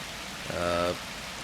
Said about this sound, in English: not stand around in the rain like a fucking lunatic